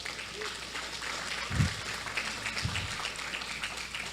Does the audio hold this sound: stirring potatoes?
no